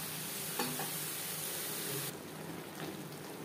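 Summer vegetables stirred in a pan for a katla fish curry cooked on high to medium flame, a steady faint sizzle with a couple of soft scraping stirs, close and alone without talk.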